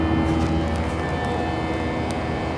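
Inside an airliner cabin during the climb to cruising altitude, a steady loud roar of jet engines and airflow fills the space with a constant low hum and no talk.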